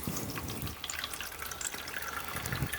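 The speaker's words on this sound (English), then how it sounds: "We're going to go 3 cups of water." Water pours onto three cups of rice in a pot for cooking, a faint, quiet trickle and splash that runs steadily for a few seconds with no talking.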